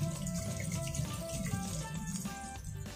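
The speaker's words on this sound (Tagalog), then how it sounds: "Lagyan natin ng tubig." Water splashes steadily into a cooking pot while nilagang baka, a Filipino boiled beef soup, is prepared in a home kitchen. The pour runs close and continuous for the whole stretch, with a faint ringing tone from the pot.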